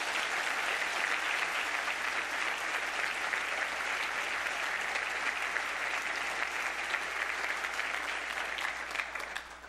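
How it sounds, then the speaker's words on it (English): Sustained applause from a large church congregation, dense steady clapping that holds for several seconds and tapers slightly at the end. "Let's give them a round of applause."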